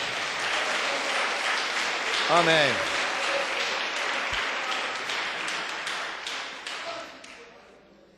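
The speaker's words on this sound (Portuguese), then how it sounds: "Pode dar uma salva de palmas para Jesus aí," A church congregation claps together in sustained applause that fades toward the end, while a single voice briefly speaks over it.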